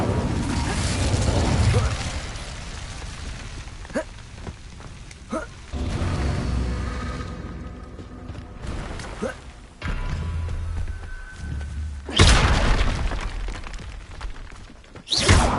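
Fire spells cast repeatedly in Hogwarts Legacy, with loud whooshing bursts and crackling blasts recurring through the scene over game music and effects.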